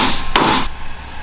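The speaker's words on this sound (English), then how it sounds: "God damn hammer." A single sharp metallic hammer strike while removing parts during a truck engine pull, loud and close, with a brief ring that fades quickly.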